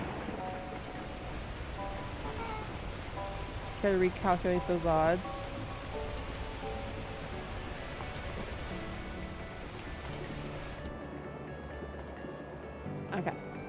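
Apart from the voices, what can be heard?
torrential rain in video game Beacon Pines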